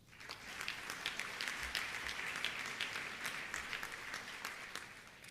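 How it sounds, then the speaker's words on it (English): A very large crowd at a historic public event applauds itself, a continuous roar of distant clapping that swells quickly and holds steady, soft overall and with no speech over it. "Please give yourself a round of applause."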